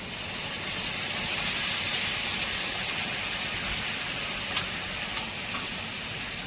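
Lemon juice poured into a hot peanut tempering for lemon rice, a steady loud sizzle and hiss that holds throughout with a faint stir or two near the end.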